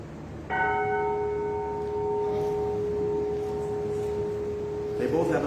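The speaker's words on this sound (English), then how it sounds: "I like the church bell, and I like the history of the church bell" A church bell at the First Universalist church in New Madison is struck once, its clear ringing tone sustaining and slowly fading over several seconds above a low background murmur.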